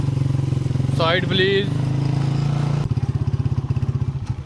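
A Chinese-made motorcycle with a noisy timing chain idles nearby, a steady rattling engine chatter that continues throughout while a person speaks briefly over it.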